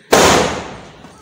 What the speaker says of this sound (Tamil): ஓ இவ்வளோ பெரிய வெடி யாரும் வச்சிருக்காங்க